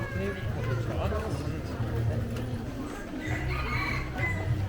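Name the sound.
chicken clucking and crowing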